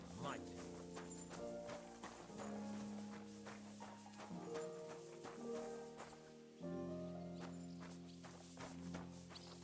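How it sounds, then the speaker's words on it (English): A horse's hooves clip-clop at a walking pace in the video game Kingdom Come Deliverance 2, steady and close beneath sustained background music while someone talks over it. "There's Pebbles, that's my horse."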